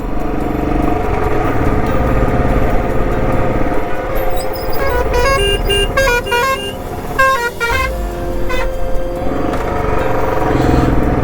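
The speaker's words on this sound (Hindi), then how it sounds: "बुलेट दूसरे गेर में चढ़ी भी है" A Royal Enfield Bullet motorcycle labors up a steep mountain pass on the Manali–Leh highway in second gear, its engine droning steadily and loudly, while other vehicles' horns honk repeatedly in the middle of the stretch.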